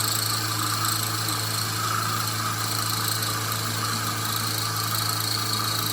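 A CNC mill cuts a radius on a 4140HT steel shaft at about 1,350 RPM and 5 inches a minute, producing a steady machine hum with a constant tonal drone, even and uninterrupted throughout.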